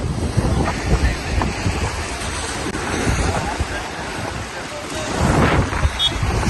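Sea waves breaking at a beach in Port Blair, Andaman, a continuous loud wash of surf mixed with wind buffeting the microphone, with no clear separate breaks.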